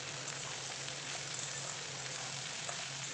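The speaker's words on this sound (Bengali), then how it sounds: "আর এখন দেখো যে ঢ্যাঁড়সটা আমি কেটে রেখেছিলাম সেই ঢ্যাঁড়সগুলো সব দিয়ে দিলাম, দিয়ে এখন ভালো করে একটু নাড়তে থাকবো কিছুক্ষণ ধরে।" Cut okra frying in a pan with potatoes, a faint steady sizzle with soft stirring scrapes, no voices.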